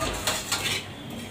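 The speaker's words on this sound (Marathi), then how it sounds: "डेसिकेटेड कोकोनट थोडस मंद आचेवरच भाजून घ्यायचंय." Desiccated coconut dry-roasts over low heat in a pan while a utensil stirs it, producing a few soft scraping clinks against the metal over a dull, even background hiss.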